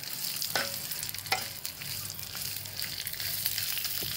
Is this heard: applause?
no